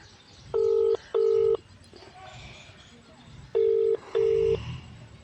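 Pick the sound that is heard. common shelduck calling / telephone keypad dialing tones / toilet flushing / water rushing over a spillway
telephone keypad dialing tones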